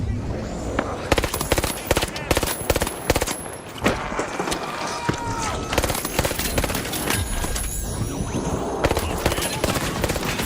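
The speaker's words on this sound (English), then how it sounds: "Why are you shooting at me" Rapid gunfire in the online shooter The Finals, with bursts of automatic shots and single cracks coming thick and loud for about ten seconds amid game effects.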